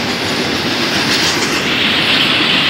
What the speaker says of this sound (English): But it was a cool looking train, and now I just caught a heritage unit.